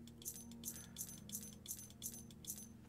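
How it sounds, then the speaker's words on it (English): Keys being picked up in the video game Oblivion give a steady series of about seven evenly spaced metallic jingles, bright and close, with a faint low hum underneath. "And actually, I will take my keys."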